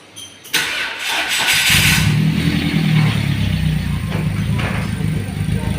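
A car engine cranks and catches during a 30,000 km periodic service, then settles into a steady, loud idle close by, with a brief rev in the first seconds.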